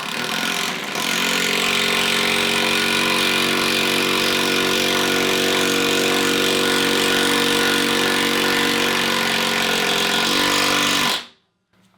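A Ridgid 12V screwdriver drives a 3-inch deck screw with a loud, steady motor whine and gear grind lasting about ten seconds, close and alone, before cutting off abruptly.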